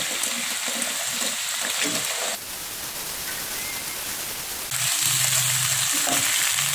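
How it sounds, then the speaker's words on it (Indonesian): Shredded cabbage is stirred through a hot pan for mie tek tek, Indonesian fried noodles, with a steady, close, loud sizzle and scraping that stays continuous throughout. "Selanjutnya di sini kita masukkan sayur kol. Ini sayur kolnya. Kita aduk rata."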